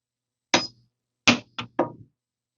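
A permanent jewelry welder set to 10 joules fires sharp, brief snapping pops, four clicks in quick succession, crisp and close against near silence.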